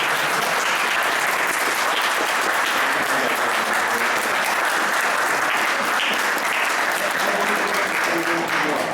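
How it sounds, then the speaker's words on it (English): Sustained applause from an audience at an atheist meeting fills the room, dense steady clapping that holds at the same loudness from start to finish. "I think that we can close with the great applause for you"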